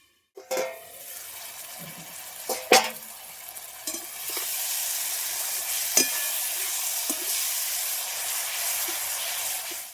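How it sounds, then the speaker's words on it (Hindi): Tomato masala for bhindi sizzles in a covered pan over medium heat, starting with a few sharp clatters of a lid and utensil before settling into a steady, bright frying hiss. "इसे लगभग हम 3 से 4 मिनट मीडियम आंच पे पकाएंगे"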